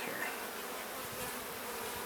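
Dense, steady buzzing of many honey bees flying in the air around beehives on a warm, sunny day, a continuous close swarm drone with no talking.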